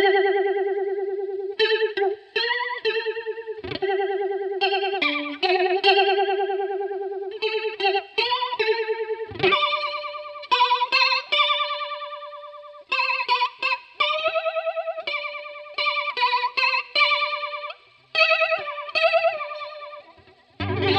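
A Boss BF2 flanger pedal with every control turned fully up sweeps hard over a clean electric guitar. The melodic phrases ring out alone, close and loud, with a strong whooshing, metallic swirl and short gaps between the notes.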